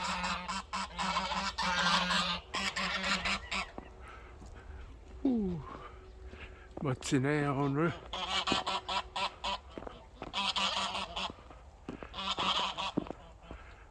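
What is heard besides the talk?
geese honking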